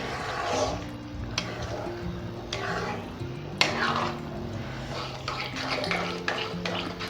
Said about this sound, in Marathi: याला चांगलं मिक्स करूया या मसाल्यांमध्ये.